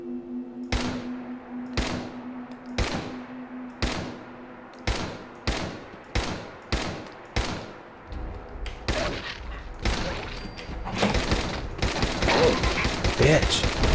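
Pipe rifle shots in Fallout 4, a dozen loud single gunshots spaced about a second apart that quicken and merge into denser firing and clatter near the end, with a player talking.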